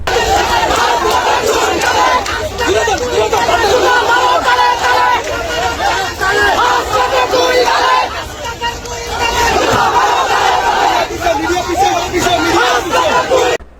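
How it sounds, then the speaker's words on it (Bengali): A large protest crowd in Debidwar, Comilla, chants slogans against Hasnat Abdullah, loud massed voices rising and falling in rhythmic bursts over constant babble, close and sustained throughout. "দেবিদ্দারে তার বিরুদ্ধে স্লোগান হয়েছে হাসনাতের দুই গালে জুতা মারো তালে তালে"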